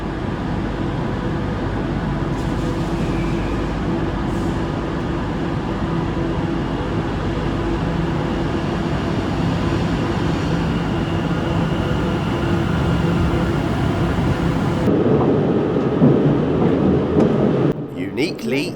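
A London Overground electric train runs along the Watford DC line on tracks shared with the Bakerloo line, giving a steady rumbling drone from the cab that shifts in tone near the end.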